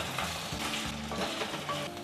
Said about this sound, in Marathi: आपल्याला कांदा घालायचा आहे आणि हा आता कांदा आहे ना तो सोनेरी रंगावर परतून घ्यायचा आहे